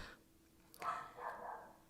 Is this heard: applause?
no